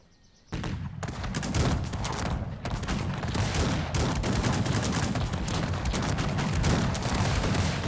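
Troops fire muskets in the video game Cossacks 3, a dense continuous crackling fusillade that bursts in abruptly and keeps going loud and close without pause.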